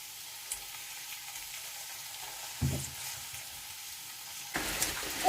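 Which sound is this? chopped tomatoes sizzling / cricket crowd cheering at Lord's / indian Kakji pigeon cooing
chopped tomatoes sizzling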